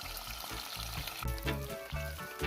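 Fish sizzles and crackles in hot oil in a pot during an outdoor Caribbean-style catch-and-cook, a steady close frying hiss with bubbling bursts and faint rhythmic music behind it.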